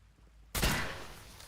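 A single loud gunshot from the Fallout 4 video game cracks suddenly after a quiet stretch, then rings out in a long, fading tail that settles into a low wash of game ambience.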